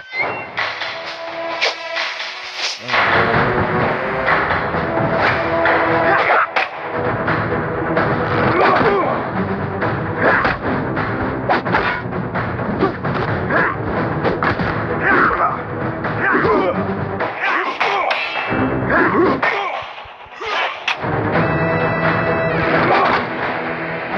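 Loud, dense bursts of gunfire and impact effects in the fighting game Shadow Fight 3 run almost continuously, with brief drops at a few points, and speech mixed faintly underneath.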